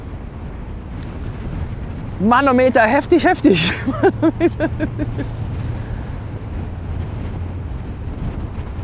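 Gusty wind roars across the microphone throughout at a ferry crossing in South America, while someone speaks loudly in German over it in the middle.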